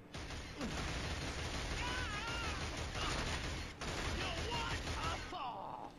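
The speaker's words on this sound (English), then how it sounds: "obviously there are guys shooting" Gunfire from a Killzone firefight in a flooded area, a dense continuous volley of shots and rattling bursts that keeps going almost without a break, fairly loud and busy, with game effects layered in.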